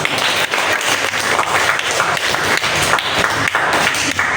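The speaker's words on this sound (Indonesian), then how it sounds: "Ya, tepuk tangan untuk kita." Loud, dense classroom applause from students after a lesson, steady clapping filling the room for several seconds without pause.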